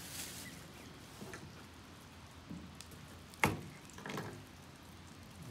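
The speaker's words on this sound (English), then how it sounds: "Smitty, now that we got the pan hot, now we got sizzling" Rainbow trout filet sizzling in a hot pan with butter, garlic and lime, a soft steady crackle of frying with a few brief louder pops and spatters, heard close with no talking.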